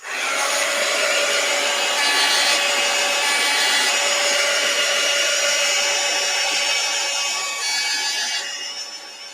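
Hair dryer blowing steadily on a freshly painted sheet of paper, a loud continuous airy whir that holds for several seconds and then eases off near the end.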